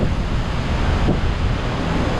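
Strong hurricane wind roars steadily across a Jamaican town, a dense, continuous broadband rush with low rumbling buffeting against the microphone and no letup.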